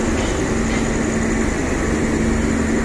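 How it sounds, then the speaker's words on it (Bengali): The Khulna-bound Simanta Express stands at platform 2 of Parbatipur railway junction, its engine idling in a loud, steady rumbling drone with a low, pulsing throb throughout, with no voices. "খুলনা অভিমুখী সীমান্ত এক্সপ্রেস পার্বতীপুর রেলওয়ে জংশন স্টেশনের 2 নম্বর প্ল্যাটফর্মে প্রবেশ করলো"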